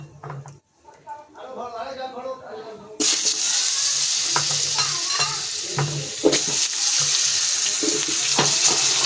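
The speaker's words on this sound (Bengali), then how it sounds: "আলুটা একটু লাল করে ভাজতে হবে" Potatoes drop into hot oil with cumin seeds and bay leaf in a pan and sizzle loudly and steadily, with scraping stirs, after a quieter stretch where someone speaks.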